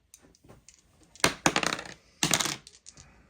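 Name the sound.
black dice rolled for a Star Wars Legion melee attack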